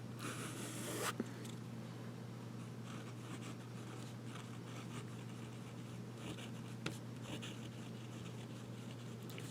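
A fountain pen nib is used upside down for reverse writing on paper, making a faint, close scratching. Short soft strokes repeat with a few slight taps, all quiet against low background hum.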